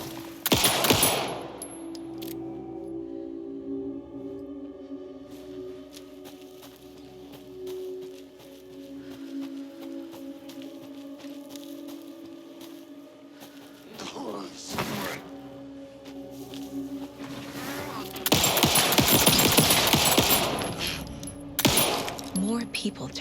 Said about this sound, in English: It's shooting!